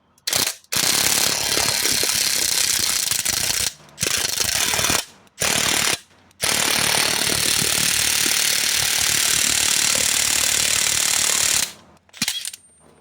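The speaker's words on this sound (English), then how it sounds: "we're gonna use a impact drill" Long bursts of rapid mechanical hammering from an impact drill on the crankshaft pulley of a 2005 Volvo XC90, close and loud, separated by short pauses.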